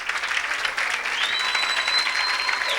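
A congregation at an evangelist's worship service claps for the Lord, giving a steady, dense roar of applause throughout with a faint tone ringing through it.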